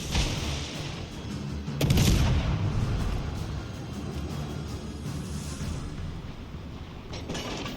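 Naval gunfire in World of Warships Legends, a heavy boom around two seconds in over a steady low rumble of battle, with a few fainter shots later.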